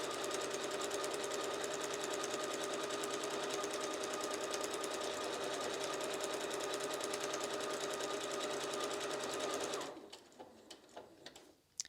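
A Husqvarna Viking Onyx 30 sewing machine runs an automatic buttonhole sequence, a loud, fast, steady stitching whir lasting about ten seconds before stopping abruptly, followed by a few faint clicks and handling knocks.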